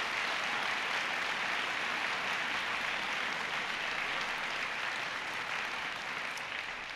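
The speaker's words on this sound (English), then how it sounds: "So they deserve a huge round of applause." Sustained audience applause for teachers at TechBoston in Boston, where President Obama spoke on education: a dense, steady wash of many hands clapping at an even loudness for the full stretch, with no voices above it.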